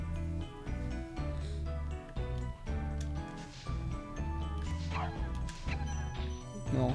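Dog enemies barking in Spyro the Dragon, a rapid run of sharp barks and yips over steady game music, with smashing hits in between and a voice talking quietly now and then.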